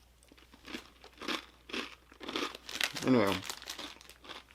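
Crunchy snacks bitten and chewed right at the mouth: a rhythmic run of loud, crackly crunches at roughly half-second intervals, with a brief spoken word in between.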